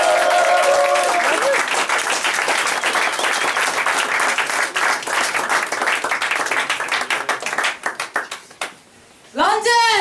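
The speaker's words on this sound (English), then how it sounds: "Can we give a big round of applause" At a spoken word poetry night in London, an audience claps loudly and continuously with a few cheers, the clapping thinning into scattered claps before a voice begins speaking at the end.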